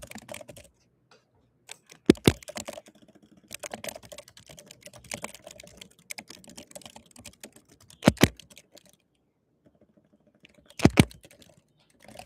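Quick bursts of typing on a computer keyboard, soft clicking keys in short runs separated by pauses, with a few louder sharp taps standing out near the microphone.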